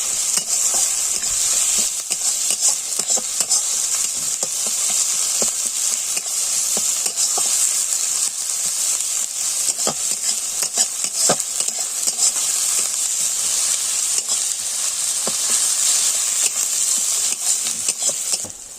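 Onion with ginger paste and garlic paste fries and is stirred in a pan, giving a steady loud sizzle with scraping spoon strokes throughout, no voices.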